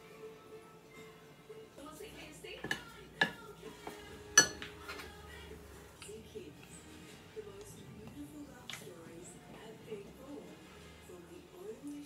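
A spoon clinks against a bowl as condensed milk is added for coconut macaroons. There are a few sharp, close metallic taps among softer kitchen handling, with a voice faintly in the background.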